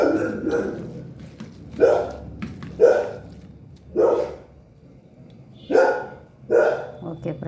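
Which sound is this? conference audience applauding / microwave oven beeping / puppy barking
puppy barking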